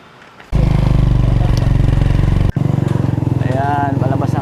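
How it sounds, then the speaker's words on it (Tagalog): A motorcycle engine starts up abruptly and runs loud and close with a steady low throbbing idle, briefly cutting out before resuming; people talk nearby. "Ayan, motor."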